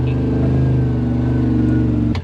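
A Yamaha Rmax 1000 side-by-side engine-braking downhill through a performance muffler, a loud steady low rumble with throbbing exhaust pulses, cutting off abruptly near the end, no talking.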